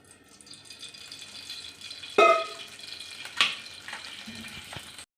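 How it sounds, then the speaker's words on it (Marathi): Spices and vegetables (cinnamon, cardamom, peppercorns, garlic, ginger, bay leaf, coriander and tomato) roast in oil for egg curry, a soft close sizzle broken by a couple of sharp pan clatters. "सगळी भाजून घ्यायची"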